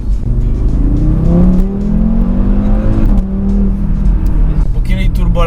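Audi RS3 ABT with a tuned five-cylinder turbo engine revs loudly and continuously, pitch rising and falling through several sweeps, close and dominant throughout.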